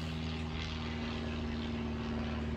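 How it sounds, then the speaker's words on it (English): A propeller aeroplane passes overhead in a suburban garden, its steady droning engine hum loud and continuous throughout with no talk. "Sorry, aeroplane above."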